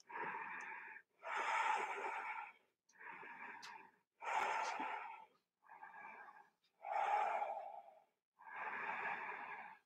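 Slow, deep breaths during a yoga session, heard up close: seven long, airy inhales and exhales in an even rhythm, separated by short pauses of quiet.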